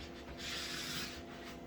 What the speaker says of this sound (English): So now I want to smooth that out with my squeegee.